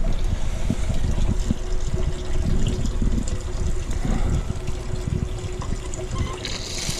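Water from an outdoor spigot splashes and trickles continuously at a steady volume, a close, hissing flow with a faint gurgle underneath.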